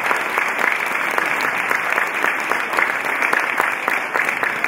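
Many hands clap at once in a church congregation during a funeral home-going service, a loud, sustained, evenly dense applause with individual sharp claps popping through, no speech over it.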